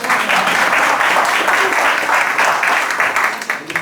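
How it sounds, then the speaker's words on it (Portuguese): Audience applause at a motivational lecture, steady dense clapping from a crowd filling the room for about four seconds with no break. "Uma salva de palmas pro Wesley, né, pessoal?"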